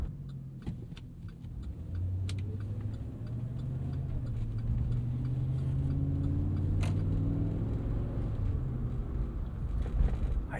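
A 2013 Chevrolet Avalanche pickup's 5.3L V8 with a 6-speed grumbles low and steady while driving around town, rising slightly in pitch as it accelerates, with faint clicks in the cabin.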